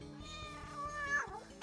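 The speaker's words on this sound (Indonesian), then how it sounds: "Lu lihat, itu kucing." A cat meows repeatedly in a close, clear series of rising and falling calls, ending with a sharp, louder cry.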